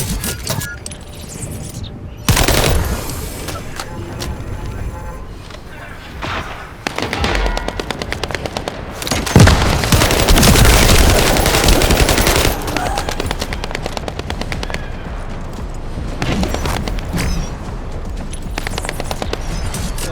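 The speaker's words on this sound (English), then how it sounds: "Assault turret." Assault turret machine gun fire in The First Descendant, a PS5 shooter set at a desert mining site, roars loud and continuous in long sustained bursts with brief gaps, layered with game effects and clanks.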